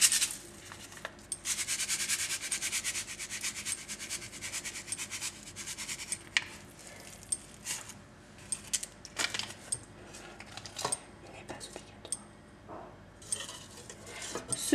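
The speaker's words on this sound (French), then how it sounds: "Je continue de mélanger pour éviter qu'il reste des petits bouts" A spoon scrapes and clinks around a pan of milk being heated for homemade hot chocolate, irregular metallic taps and rubbing strokes, close and fairly quiet, with no talk.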